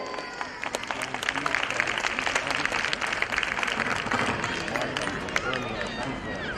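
Audience applause at a school annual day celebration for a class 12 science topper; steady, dense clapping throughout, with a voice speaking over it.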